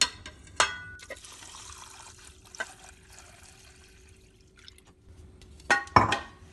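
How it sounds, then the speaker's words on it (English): Water is poured into a pot of rice and mung dal, with a couple of splashy clinks at the start, a quiet trickle, then a louder burst of pouring near the end. "we're going to add our water."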